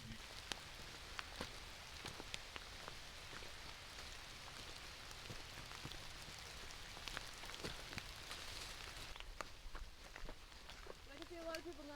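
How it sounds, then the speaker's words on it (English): Light drizzle pattering steadily on foliage and rain gear in a forest wilderness while backpacking, with scattered drips and occasional footsteps, and people talking quietly throughout. "it's started to drizzle again."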